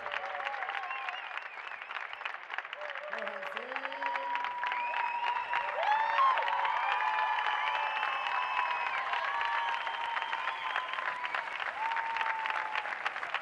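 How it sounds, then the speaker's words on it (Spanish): Audience applause sits at a moderate level beneath sustained melodic tones and voices, continuing evenly throughout without a clear break. "Fuerte el aplauso. Aplauso para esta gente,"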